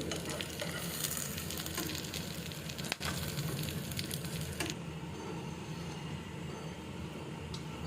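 Beef chaap fries in a little oil in a frying pan, a loud continuous sizzle and crackle up close with stirring scrapes and a sharp clack near the middle, steady throughout without speech.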